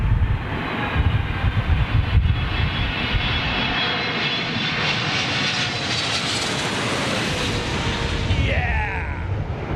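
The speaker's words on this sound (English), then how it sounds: "Listen out for these engines, folks. Might pull on a little bit of power." Large jet airliner engines spool up in a loud, steady broadband roar that swells and holds throughout, with a faint whining tone rising near the end.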